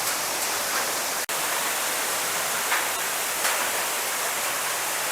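A small waterfall at Salto Ventoso park, Farroupilha, falling as a thin veil of water with little flow, heard as a steady, even broadband rush with no voices.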